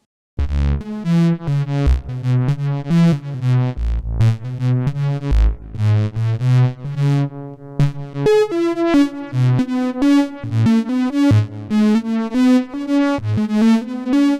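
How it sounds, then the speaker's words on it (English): A sustained patch on a KORG ARP2600M analog synthesizer with an auto-panning effect plays a flowing sequence of bright, harmonically rich notes, steady and loud throughout with no voices. "so you get this panning effect and it sounds like this"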